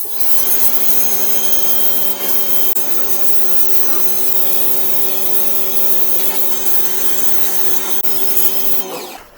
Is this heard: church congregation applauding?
no